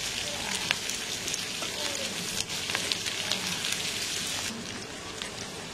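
Garlic paste sizzles in a frying pan with a soft, continuous crackle and scattered pops, fairly quiet and steady throughout.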